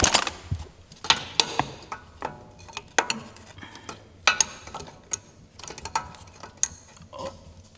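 A wrench working loose an axle nut on a Lexus LS400, a series of sharp metallic clicks and knocks in an irregular rhythm, close and fairly loud, with no talk.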